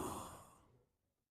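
A person yawns with a long breathy exhale during a late-night Quran study session, loud at first and fading into quiet over about a second.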